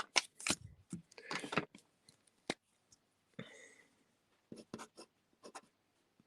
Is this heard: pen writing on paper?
yes